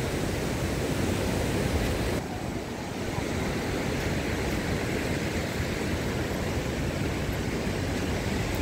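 Ocean waves rolling onto Patong Beach in Phuket at sunset, a loud, continuous broadband wash of surf with steady roar, briefly dipping before building again, with some wind noise on the microphone.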